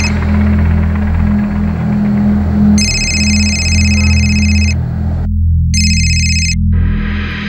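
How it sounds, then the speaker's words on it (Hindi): An unanswered landline telephone rings in two electronic bursts, each a bright steady tone that stops and repeats, over a constant loud low hum. "लैंडलाइन पे भी फोन किया था, सिर्फ रिंग बज रही है"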